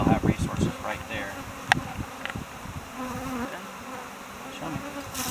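Honeybees buzz around a hive frame during a beekeeping inspection, a close, steady droning hum with bursts of louder buzzing, under occasional talk.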